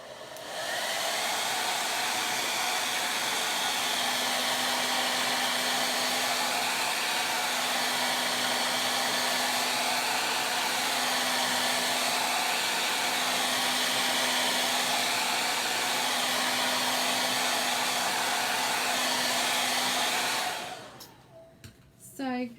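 A hair dryer blows steadily on a chalk paste transfer for about twenty seconds, a loud, close, continuous whirring hiss that cuts off near the end.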